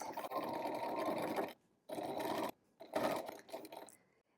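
A sewing machine stitches a fabric scrunchie made from scraps, three close, steady runs of motor whir separated by brief pauses, with no talking.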